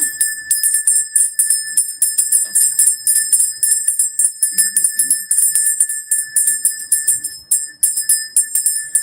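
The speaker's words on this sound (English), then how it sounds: "I'm going to ring the bell." A bell rings over and over in a rapid, steady pattern of bright, high metallic strikes, loud and close, with each tone overlapping the next.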